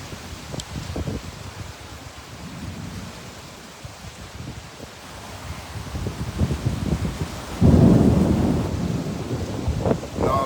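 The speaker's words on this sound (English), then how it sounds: "Look how it's raining out here, yo. It always rain like this." Heavy rain pours steadily outdoors as a broad, loud hiss, swelling stronger toward the end, with low rumbling that suggests thunder; no one speaks.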